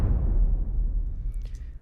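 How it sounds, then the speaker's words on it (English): A single deep orchestral bass drum hit booms and slowly decays into a roomy tail, with a couple of faint higher taps near the end. "And that's kind of like a bass drum."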